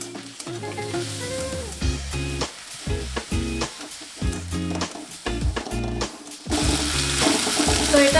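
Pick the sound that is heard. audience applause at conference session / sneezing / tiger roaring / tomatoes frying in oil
tomatoes frying in oil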